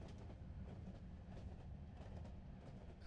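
A train runs on rails in the video game Skyrim Enderal, giving a steady, dense rumble with faint rhythmic clatter heard from inside a carriage, quiet and continuous with no talk.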